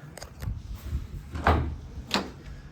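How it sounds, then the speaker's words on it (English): Side and rear doors of a 2019 VW Transporter 2.0 TDI van being opened, a few short clunks and latch sounds spaced across a couple of seconds, fairly close and moderate in loudness. "And then opening up the doors."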